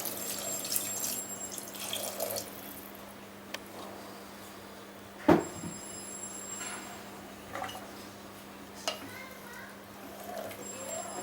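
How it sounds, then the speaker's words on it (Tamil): Water trickles and splashes as it is poured into a pan of quail pepper gravy, with a sharp clink of utensils midway, heard close but fairly quiet beneath a faint voice. "ஒரு two hundred to three hundred ML water add பண்ணிக்கிறோம்"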